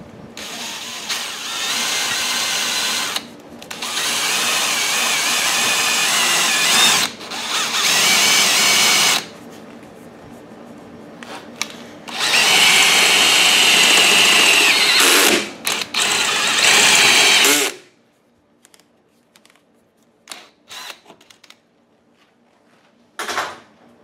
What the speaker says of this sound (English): We'll take a step bit and drill it out